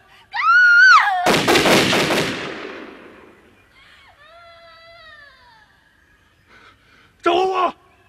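A burst of gunfire in a period war drama, a rapid rattling volley after a shout, then fading, with voices crying out before and after.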